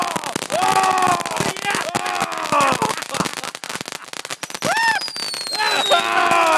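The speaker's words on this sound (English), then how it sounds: "Is that a beaver firework?" Fireworks pop, crackle and whistle in quick succession at a 60th celebration, loud nearby bursts with rising whistles while a crowd cheers and people talk excitedly over them.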